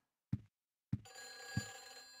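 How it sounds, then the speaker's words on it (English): Telephone bell rings in the Silent Hill 4 game, three separate loud rings near and alone, the third sustaining into a tonal ringing hum. "The phone."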